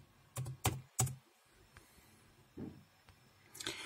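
Someone types a password on a computer keyboard while fixing a Windows boot error. A few quick, crisp keystrokes come in short bursts with quiet gaps between them, close by and with no talking.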